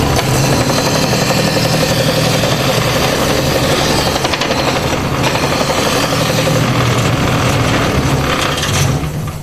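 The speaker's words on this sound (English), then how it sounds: "Belt sander, outside curves, 4-inch margin of safety." Continuous loud whirring drone of a belt sander running in a school workshop, steady and close throughout with no pauses.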